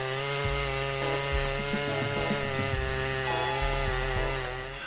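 Two chainsaws, a Stylus 881 and a Farmer Takeda 808 rated at 7.4 horsepower, cut through giant oak trunks with a loud, steady, droning engine whine and faint shifts in pitch as the chains bite.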